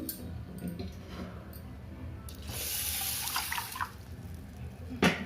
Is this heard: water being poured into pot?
yes